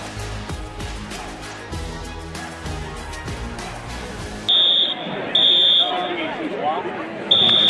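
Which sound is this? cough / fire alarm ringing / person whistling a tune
fire alarm ringing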